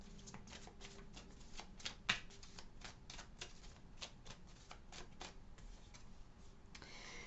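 A deck of tarot cards being shuffled close up, with a steady run of crisp riffling flicks and snaps, one louder slap partway through, and no talk.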